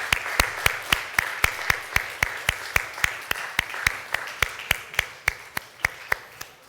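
A church congregation welcomes two graduating students with steady, evenly paced claps. The clapping is regular and rhythmic, like one clear clapper near the microphone over faint background clapping.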